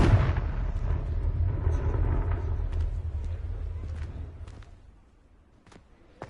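A Confringo spell blast in Hogwarts Legacy, a loud booming explosion with a deep rumbling tail that fades away over several seconds, ending in near quiet with a faint click.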